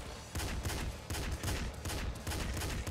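Rifle gunfire in the video game Nuclear Throne crackles in several rapid bursts of repeated shots, loud and close, separated by brief pauses, with no talking.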